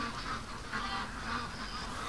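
Ducks being let out of their pen in the morning, with faint honking quacks over a steady outdoor background.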